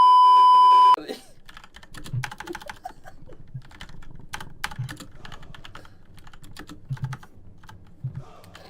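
Fast typing on a computer keyboard clatters close up after a short electronic beep tone, with the rapid clicks continuing in bursts over low background noise.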